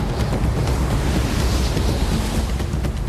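Heavy ocean surf crashes against a pier, a loud, continuous roar of breaking water with wind buffeting the microphone throughout.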